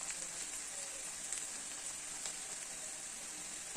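Chopped shallots and onion sauté in a pan with a steady, dense sizzle that holds at an even level throughout, with a few faint pops.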